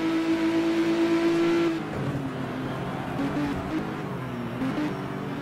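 Racing cars including a black BMW touring car on the Wigram circuit in a 1985 New Zealand touring car race, one engine holding a steady high drone before dropping away into a rougher mix of engines at a distance.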